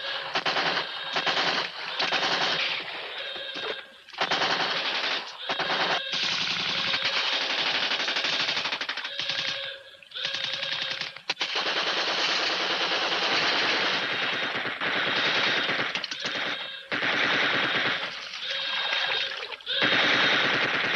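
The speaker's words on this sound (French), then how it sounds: "Ouvrez le feu! Feu!" Machine-gun fire in a French crime and espionage TV series, long rapid bursts of automatic shots broken by short pauses, loud and close, with the shouting mostly buried under the gunfire.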